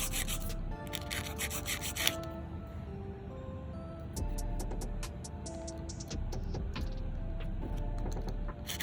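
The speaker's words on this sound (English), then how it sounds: "you just keep filing until you bring it to a point" A nail file works a nail tip on a practice trainer hand in short, close rasping strokes, with a few light taps and a low steady hum underneath.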